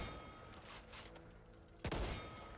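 Gunfire from a long-range, long-barrel gun in Back 4 Blood, fired on a shooting range at distant test dummies: a steady stream of game shooting with one heavier, louder burst near the end.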